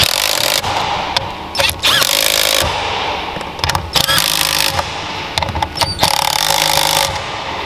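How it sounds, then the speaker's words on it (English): Impact gun tightening bolts while fitting a short shifter on a Honda Jazz GD1, several loud bursts of rattling hammering of varying length separated by short pauses, close up. "get your dugga gun, rattle gun, impact gun, whatever you want to call it, and do them up"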